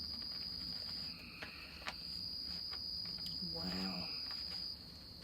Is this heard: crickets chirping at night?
yes